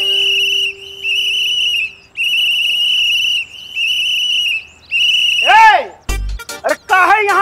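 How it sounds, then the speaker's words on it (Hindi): Loud, shrill whistling close to the ear, repeated in sustained high-pitched blasts with brief gaps, then breaking into sliding, warbling whistles near the end. "अरे काहे यहाँ कान में आके जोर जोर से सीटी मार रहे हो"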